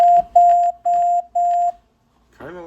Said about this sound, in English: tamper with it till it beeps